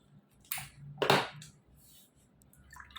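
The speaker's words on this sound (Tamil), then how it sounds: "ஃபஸ்ட்டு எல்லா பாக்கெட்டையும் கட் பண்ணிக்கலாம்." A couple of quick crisp snips cutting open facial kit packets, one light then a louder rustly one, with faint packet crinkling around them in a quiet room.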